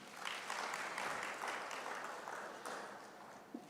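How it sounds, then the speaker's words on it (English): Audience applause at a sustainability conference after a keynote address, a faint, steady wash of many hands clapping from a distance that slowly thins out. "Another round of applause for him"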